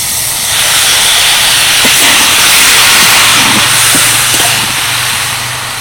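Water poured into a hot pan of spiced carrots and potatoes sets off a loud, sustained steamy hiss that fills the whole stretch, with faint clinks of utensils underneath.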